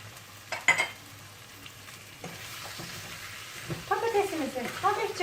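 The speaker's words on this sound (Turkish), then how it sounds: "kavuruyoruz birazcık." Potato meatball stew spices with salt, black pepper and cumin sauteing in a pan, giving a soft steady sizzle with a few stirring scrapes, faint at first and busier near the end, with some voice in the background.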